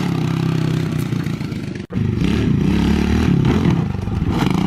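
A pit bike engine revving hard with a steady droning buzz, briefly cutting out for an instant before surging again, accompanied by rattling clatter before a jump off a wooden kicker.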